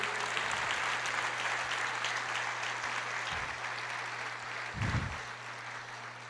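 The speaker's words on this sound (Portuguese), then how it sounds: "Você pode aplaudir o Senhor" A church congregation applauds during a sermon, a steady, fairly faint wash of clapping that carries on for several seconds without voices over it.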